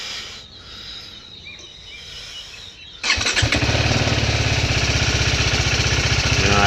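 A TVS Apache RR310 motorcycle cranks and fires up at close range, then settles into a steady, fairly high idle that runs loud to the end.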